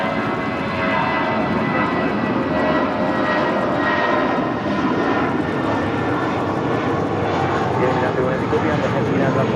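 An airliner taking off at LAX roars loudly and steadily with a broad, rumbling jet engine drone that fills the clip, with no talk over it.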